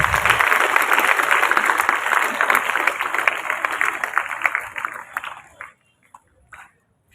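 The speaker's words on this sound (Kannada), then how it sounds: "ತಮ್ಮೆಲ್ಲರ ಪರವಾಗಿ ಜೋರಾದ ಚಪ್ಪಾಳೆ." An audience claps loudly and steadily at an International Yoga Day 2025 gathering, a dense crackle of many hands that thins out and dies away near the end.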